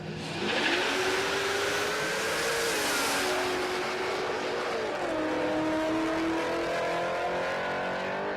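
A 1956 Chevrolet drag race car launches and accelerates hard down the strip at Palmyra Raceway, its engine note climbing through the gears, loud and close for about eight seconds after a brief quiet start.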